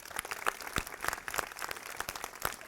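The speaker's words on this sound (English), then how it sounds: "they deserve a huge round of applause" Faint, steady applause from a lecture audience at the Adler Planetarium, a continuous patter of many hands clapping at a distance with no voices over it.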